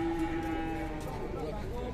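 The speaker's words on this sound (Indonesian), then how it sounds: "Sapi akeh gitu." Sacrificial cattle being unloaded from a truck give a loud, close, drawn-out moo that holds for about two seconds amid crowd noise.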